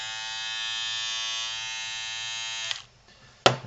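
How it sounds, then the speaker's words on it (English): An Andis cordless hair trimmer running at full speed on a full charge gives a steady, close, high-pitched electric buzz. The buzz lasts nearly three seconds, then cuts off with a click, a short silence and another sharp click. "it sounds good, sounds sort of like a pitch I'd expect from a full speed motor off a full charge"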